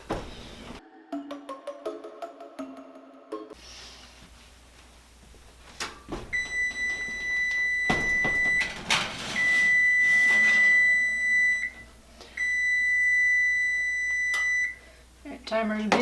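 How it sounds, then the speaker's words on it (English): A kitchen timer beeps in repeated bursts of steady high tones while pumpkin seeds bake, mixed with kitchen clatter and bursts of talk at the start. "Timer is beeping for that first hour."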